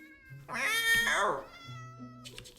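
Cat meowing in Minecraft, a drawn-out rising and falling meow standing out over a low background tone, followed by a short quieter sound at the end.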